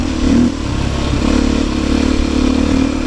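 Beta 500 RS dirt bike being ridden through woods, its engine a steady, loud droning rumble with a brief louder surge near the start and some clattering over the terrain.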